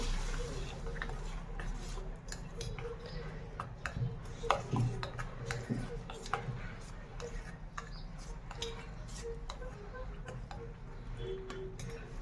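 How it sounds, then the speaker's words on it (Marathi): Spoon stirring coconut chutney that has just been topped with a hot tempering, giving light, irregular clinks and scrapes against the bowl, soft and close, with faint background hum. "चमच्याच्या साहाय्याने हलवून घ्यायचे आहे।"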